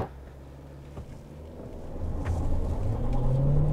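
Chery Omoda 5 GT compact SUV with a 1600cc engine accelerating hard from a start with wheel spin, engine rumble building steadily in pitch and loudness, heard from inside the car.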